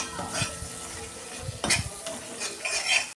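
Thick spice paste sizzles and fries in a pan for a Bengali bottle gourd and prawn curry, with steady scraping stirs and a few clinks of a spoon against the metal. The sound is close and has no talk over it.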